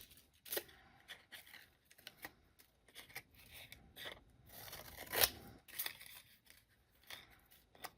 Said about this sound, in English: extending the blade as far as I can and cutting this into little bitty strips